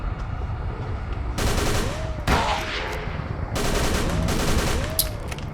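Gunfire in Call of Cthulhu: Dark Corners of the Earth: loud, rapid bursts of shots crack out in several separate volleys, each lasting about a second, with brief gaps between them.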